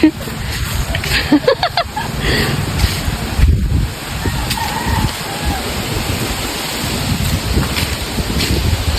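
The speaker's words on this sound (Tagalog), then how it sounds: "kalakas ng hangin" Strong wind roars and buffets steadily across the microphone outdoors during vegetable picking in a village, with people's voices faintly mixed into the rushing noise.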